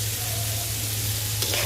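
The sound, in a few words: onions frying in a pan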